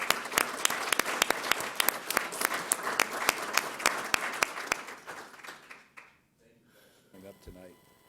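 An audience at a school district governing board meeting claps for contributors: a few seconds of sharp, close, irregular clapping that thins out and stops, followed by a brief murmur of voices.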